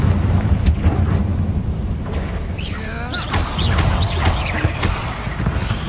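Confringo fire-blast spell exploding in Hogwarts Legacy during a spider fight: several sharp bursts and crackling impacts over a constant background rumble of game ambience, with whooshing effects in between.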